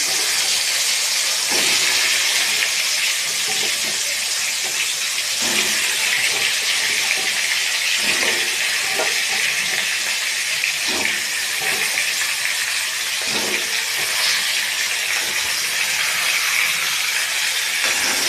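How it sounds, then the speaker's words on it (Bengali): Potato pieces dropped into hot oil seasoned with bay leaf and cumin give a steady, loud, close sizzle that hisses unbroken for the whole stretch, with no talking. "আলু ছেড়ে দিলাম গরম তেলে"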